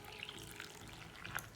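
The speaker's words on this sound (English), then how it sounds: "I'm going to add the water" Water runs steadily into chickpea flour (besan) in a kitchen while khandvi batter is being made, a soft continuous trickle and splash, faint and close, with no talk.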